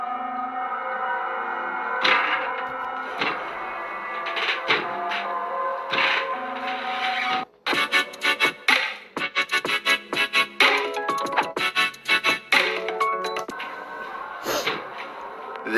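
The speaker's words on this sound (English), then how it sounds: "This window is taking some serious punishment from an unseen force and at times sounds ready to break." A window rattles and bangs repeatedly, with irregular sharp knocks and clattering bursts that grow more violent partway through, loud and close.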